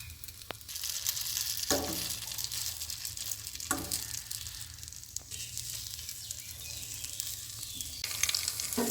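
Potato and egg pakoras frying in hot oil, a steady close crackling sizzle with a few soft knocks from a utensil and no voices.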